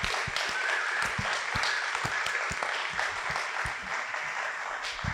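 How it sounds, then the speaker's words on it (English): An event audience gives a standing ovation, a continuous round of applause with some sharper individual claps standing out, heard from a moderate distance. "A second standing ovation. Applaud."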